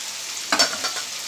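Prawns fry in a pan with a soft steady sizzle and a brief burst of stirring clatter midway, quiet and close.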